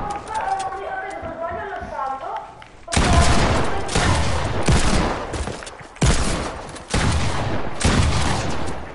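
Gunfire in the video game Fortnite: after a few seconds of close talking, loud rapid volleys of shots erupt in repeated bursts with brief pauses between them, filling the rest of the clip.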